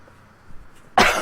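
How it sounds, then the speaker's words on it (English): A single sharp, close cough bursts out near the end after a quiet, breathy moment, short and loud, with no talk. "Sorry, coughing."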